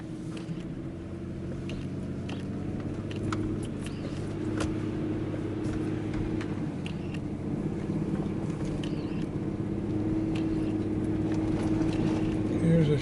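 Pickup truck driving slowly along a muddy, snowy road on a warm day, a steady low engine drone with tyres churning through mud, continuous and close, with someone talking over it at times.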